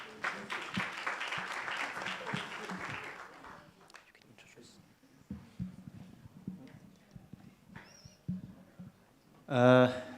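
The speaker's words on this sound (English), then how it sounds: "A round of applause for them, please." Applause from a seminar audience at a voter registration and education event fills the opening seconds as a dense wash of clapping. It then fades into scattered voices, thumps and room noise, with a brief loud burst near the end.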